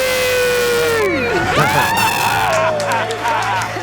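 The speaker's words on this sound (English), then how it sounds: "Let's hear a debt-free scream." A couple who have just paid off their debt let out a celebratory scream as a crowd shouts and cheers along. Loud, sustained yelling with whoops carries on throughout, and a voice rises over the top.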